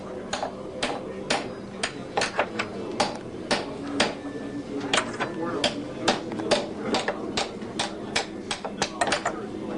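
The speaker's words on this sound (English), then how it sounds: "you want to grab a pry bar and a hammer, starting at one end," A hammer and pry bar work up clamps, beginning at one end right at the edge, giving a quick run of sharp, irregular taps and knocks heard up close.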